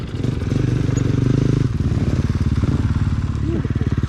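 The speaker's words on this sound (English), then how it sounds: "Enjoying my super duper electric start YZ250." A Yamaha YZ250 two-stroke dirt bike fitted with an electric start kit runs close by outdoors, its engine a loud, steady buzzing rattle that throbs throughout, with voices faintly mixed in.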